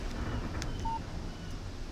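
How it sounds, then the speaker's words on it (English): A mobile phone gives a single short electronic beep for an incoming text message in the video game Alan Wake, a brief faint tone over a steady windy background. "Text message from Barry."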